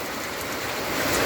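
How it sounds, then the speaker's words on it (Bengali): Heavy rain falls in Daganbhuiyan, Feni, a dense steady hiss that swells a little toward the end of the short stretch, with no voices. "দাগনভূঞাতে অনেক বৃষ্টি"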